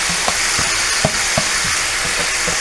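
Garlic sizzles and fries in a pan for Cantonese rice, a loud, steady crackling hiss with occasional soft knocks and scrapes as it is stirred, close up and with no voices.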